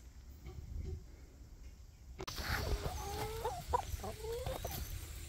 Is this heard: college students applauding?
no